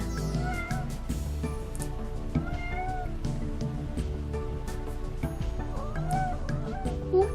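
Calcifur the cat meows repeatedly indoors, a series of short chatty calls spaced irregularly, close and clear against a quiet room.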